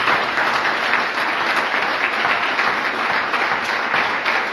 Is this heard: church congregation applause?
yes